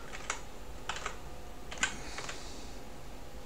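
Typing on a computer keyboard while entering a country name in a game: a few soft, separated key clicks and short bursts of strokes, close and quiet, with no talking over them.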